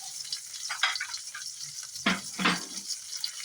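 Brinjal pieces frying in hot oil give a quiet, steady sizzle with a few louder bursts and spatters, close by in a home kitchen without any speech.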